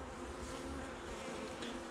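Honey bees drone steadily at a beehive apiary in November, a dense continuous buzz filling the space without any talk.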